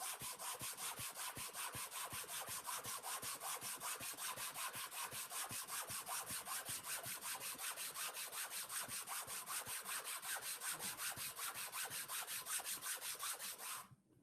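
Steady rhythmic strokes of hand work on shop-sawn wooden veneer for a cabinet back, with fast even scraping that runs loud and continuous for about fourteen seconds before stopping.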